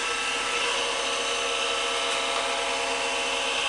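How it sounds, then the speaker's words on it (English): A bowl gouge cutting a spinning banksia pod on a wood lathe, producing a continuous dense rushing scrape with a steady tone underneath, loud and unbroken throughout. "When I come in with the bowl gouge"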